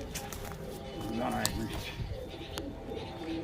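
Low, soft pigeon cooing close by, mixed with rustling and a person talking over it.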